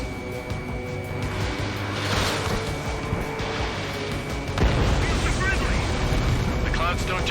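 In the Ace Combat jet game, an air-to-air missile launches with a surging whoosh over constant jet engine roar, a second rush building later, while a voice talks over it.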